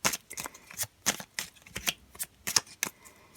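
A small classic Lenormand card deck being cut and handled, a rapid series of crisp papery slaps and riffles, close and fairly quiet with no talk.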